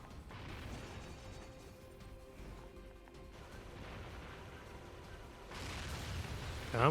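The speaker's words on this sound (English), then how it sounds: "I'm just going to keep shooting him." Gunfire aimed at a boss in NieR: Automata: a continuous rumbling barrage of muffled shots and impacts at moderate volume, swelling louder near the end.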